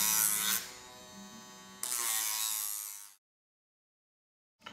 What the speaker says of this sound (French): nous avons développé une petite affûteuse électrique qui va vous permettre d'effectuer un bon affûtage sur le terrain en un minimum de temps